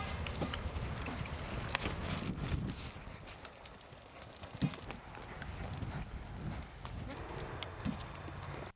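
A polo horse gallops during a match, its quick hoofbeats thudding in a rough rhythm under steady wind noise at close range, with a sharper knock partway through.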